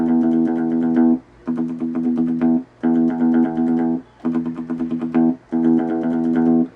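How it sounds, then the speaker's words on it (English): An electric guitar picks a ringing note in fast, steady bursts, pausing briefly between five phrases; open and sustained rather than muted. "Without the muting, it would sound like this."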